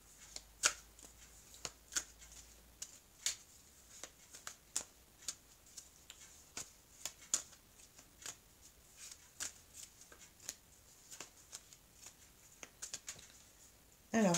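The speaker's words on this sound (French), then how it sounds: "je vais couper le jeu et je vais étaler les cartes" A deck of oracle cards being shuffled and cut, giving a steady run of crisp riffling snaps and flicks close by, with short pauses between bursts and no talking.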